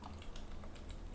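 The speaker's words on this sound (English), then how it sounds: "Okay, touch typing." Touch typing on a computer keyboard, a steady run of quick key taps close by over a low background hum.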